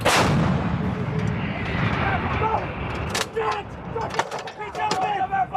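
An M777 towed 155mm howitzer fires during a Marine live-fire exercise: one massive close blast with a long rolling decay, followed by crew members shouting nearby.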